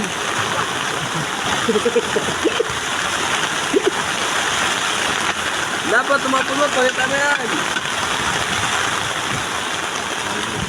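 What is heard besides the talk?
heavy rain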